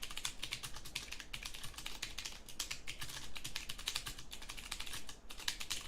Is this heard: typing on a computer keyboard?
yes